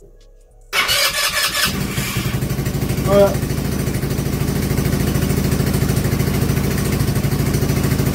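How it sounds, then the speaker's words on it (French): A 2024 CRZ four-stroke quad cranks and fires after near silence, then settles into a steady, moderately loud putter at idle through a small exhaust, with a short spoken word early on. "Donc ça démarre, ça fait pas de bruit, forcément, vu la taille du pot"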